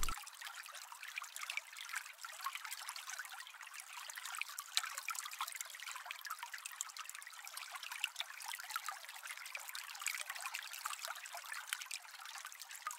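Water draining steadily from a hot water heater being replaced, a continuous hissing trickle and gurgle with fine splashing texture, even and moderately faint, running without pause throughout.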